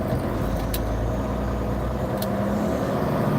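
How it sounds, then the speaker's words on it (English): Steady truck engine drone with a faint high turbo whistle riding on top, plus a couple of brief hissy bursts; close and continuous, no talking. "hear that turbo, motherfucker? Hear that turbo? Hear that whistle?"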